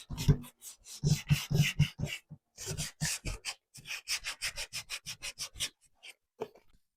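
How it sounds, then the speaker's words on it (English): Rhythmic strokes of sanding on painted wood, a run of short scratchy rubs in quick bursts with brief pauses between them, close up. "we're going to give this a little bit of sanding"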